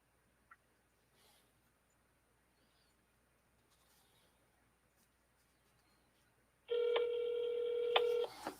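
A phone tone sequence begins near the end and runs loud and steady for about two seconds, clearly the dialing or ringing of a call. Before that comes near-silence with a few faint clicks.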